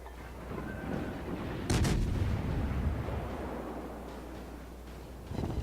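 Naval gunfire in the World of Warships game, a deep booming shot followed by a rumbling roar fading over a few seconds, with a softer thud at the end.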